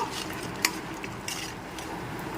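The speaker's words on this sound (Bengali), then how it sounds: "ফোড়নটাকে নেড়ে চেড়ে ভালো করে ভেজে নেব" Whole spices stir-fry in oil in a kadai, with a soft continuous sizzle and a few light scrapes and clinks from the spoon against the pan, fairly quiet and close.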